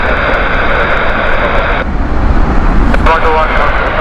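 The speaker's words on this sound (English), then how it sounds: "Next up is another logistical flight, this time 777-200 series. It's coming in from Gatwick." A British Airways Boeing 777-200 airliner arrives at Heathrow from Gatwick, its jet engines making a loud, steady broadband roar that holds throughout while a voice talks over it.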